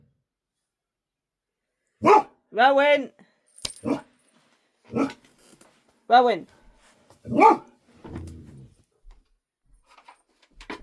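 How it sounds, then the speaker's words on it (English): Dog barking indoors, several sharp separate barks spaced over several seconds, with a person speaking briefly between them. "don't bark."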